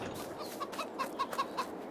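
Farm chickens in Farming Simulator 22 cluck in a quick series of short, soft calls, fairly faint against a steady ambient hiss.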